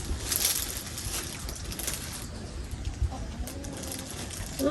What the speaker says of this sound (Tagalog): Wala kang maririnig kundi huni ng mga ibon